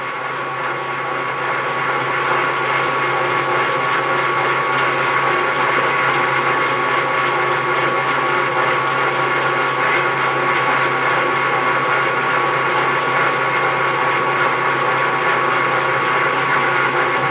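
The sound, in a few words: machine cutting metal part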